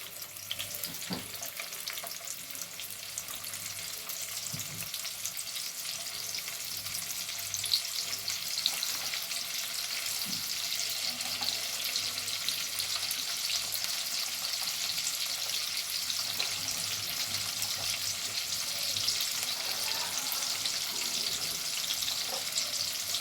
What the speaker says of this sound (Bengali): তেলের মধ্যে আমি বেশ খানিকটা পেঁয়াজ দিয়ে দিচ্ছি